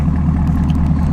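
A Chevrolet Camaro SS with an MBRP axle-back muffler delete and straight-through pipes burbles close and loud at idle, a deep steady rumble with a fast pulsing throb.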